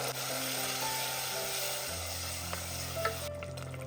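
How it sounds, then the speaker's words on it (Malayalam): Blended tomato without added water sizzles loudly and steadily in hot oil with chili and coriander powder in a pan. The frying hiss is close and continuous, with light clinks from stirring. "ഇനി ഇതിലേക്ക് നമ്മൾ ചേർത്ത് കൊടുക്കുന്നത് നമ്മൾ അടിച്ചു വെച്ച 4 മീഡിയം സൈസ് തക്കാളി വെള്ളമൊന്നും ചേർക്കാതെ അടിച്ചെടുത്തിട്ടുള്ളതാണ്"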